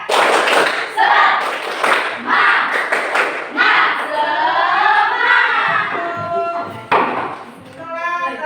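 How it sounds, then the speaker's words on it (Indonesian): Classroom students perform a rhythmic spirit clap in unison, loud, close thumping claps in short bursts mixed with voices chanting along, then a teacher speaking. "kita kasih semangat dulu dengan tepuk semangat"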